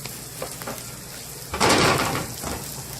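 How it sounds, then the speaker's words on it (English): Onions glazing in a pan for stuffed chicken give a soft steady sizzle, then a louder burst of frying lasting about a second as the pan is stirred, settling back to a gentle hiss. "I'll let the onions glaze."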